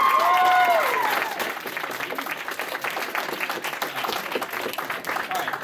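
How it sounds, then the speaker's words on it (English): A convention crowd at an anime quiz show event bursts into applause and cheering, a broad, sustained roar of clapping that opens with a loud swell and some whooping voices, then settles into steady clapping. "Let's give her a round of applause."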